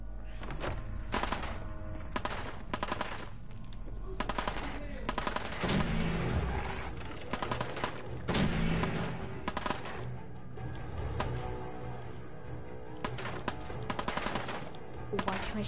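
Rapid automatic gunfire from Fallout 4 combat, dense bursts and repeated shots with heavy thuds running throughout, loud and continuous.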